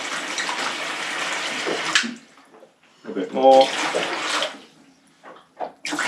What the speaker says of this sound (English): then 1 liter of water, so half of this container. So just put that in there.